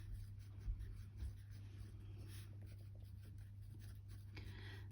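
Pen writing notes by hand, faint scratchy strokes and soft scribbling over a low steady electrical hum, with no talking.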